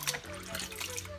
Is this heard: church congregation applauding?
no